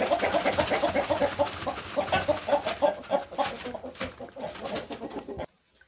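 A flock of around 60 backyard chickens clucks and murmurs continuously at close range, busy overlapping calls with a few louder squawks, fading out abruptly near the end.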